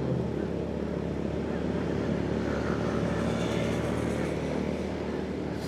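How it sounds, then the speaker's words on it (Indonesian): Cars speeding along a mountain road at night in Puncak, heard from a motorcycle ride as a loud, steady rushing roar of engines and wind with no distinct separate passes. "Mobil udah pada kencang-kencang nih di sini nih."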